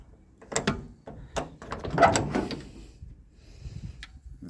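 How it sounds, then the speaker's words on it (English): An old 1970s vehicle door being opened, a short run of clunks, rattles and a metallic latch click, close and moderately loud, then quiet. "I think I can open the door here."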